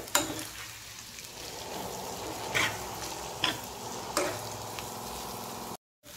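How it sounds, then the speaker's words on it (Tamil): A potato and rice mixture stirred in a frying pan, with a steady soft sizzle and a few distinct scrapes of the spatula against the pan, then a brief cut to silence near the end. "இப்போ நம்ம நல்லா கிளறி விட்டுக்கலாம் இதே மாதிரி."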